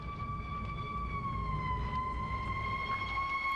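A fire engine siren wails steadily in the distance as firefighters arrive at a burning building, a faint sustained tone slowly dipping in pitch over a low rumble of background noise.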